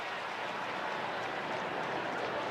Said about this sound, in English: Do we detect a little bit of a nervous murmur coming out of the crowd?